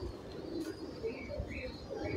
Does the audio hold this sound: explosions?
no